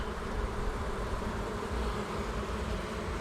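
Honeybees swarm around an open hive during a colony inspection, a dense, steady buzzing hum close to the listener, continuous and unbroken with no speech.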